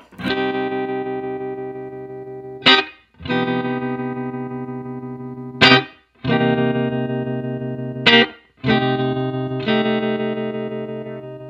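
Distorted electric guitar chords through a Strymon Flint tremolo and reverb pedal ring out in repeated strummed bursts, each pulsing with a choppy wavering effect and spacious reverb tail, loud and with no voices.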